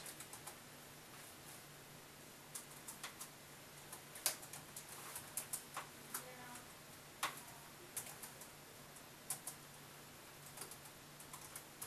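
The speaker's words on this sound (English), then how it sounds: "I gotta type this again" Quiet clicks of typing on a computer keyboard come in scattered bursts of keystrokes, close and faint, over a low steady background hum with no talking.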